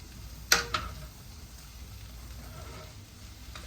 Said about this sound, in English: We're now going to stir this all up.